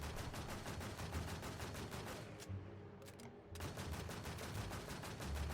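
Rapid automatic gunfire rattles almost without pause in the Warz Infestation Fantasy shooter game, a dense, loud stream of shots that drops away briefly near the middle before resuming at full intensity.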